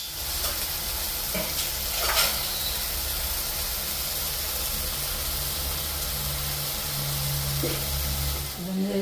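Food fries steadily in a pan for making idiyappam, likely potatoes and carrots, with a continuous close sizzle and hiss, occasional stirring scrapes and a low background hum, no voices.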